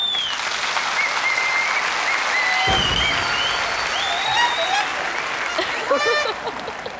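An audience in a Govinda comedy film breaks into a steady, loud wash of clapping that carries on throughout, with a brief thud and faint chirpy sounds mixed in near the end.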